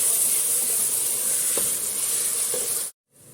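Freshly pounded ginger and garlic fry in a pan for a chicken keema biryani, a loud steady hissing sizzle with a couple of faint stirs, cutting off abruptly near the end.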